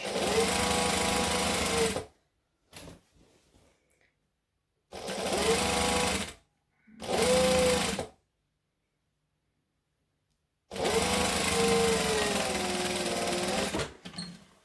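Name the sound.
sewing machine stitching Christmas tree skirt fabric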